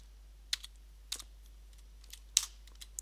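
Typing a bash script on a computer keyboard: sparse, soft keystrokes in irregular clusters, close but quiet, over a low steady hum, with no talking.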